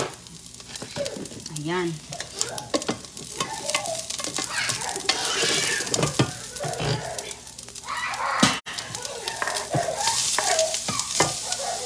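Chopped onion sautéing in a pan, a steady sizzle with stirring and scraping throughout, while someone talks briefly over it.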